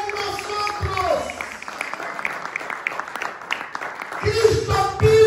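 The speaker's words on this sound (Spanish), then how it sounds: "Dele ese aplauso." A church congregation bursts into applause during a Spanish-language sermon, clapping swelling loudly at first, thinning in the middle, then rising again as a voice speaks over it.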